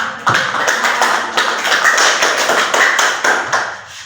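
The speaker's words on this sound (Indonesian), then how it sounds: "Ya, tepuk tangan." A class of students claps together in a classroom after a group presentation. The brisk, loud, even hand claps continue for about four seconds, with no talking.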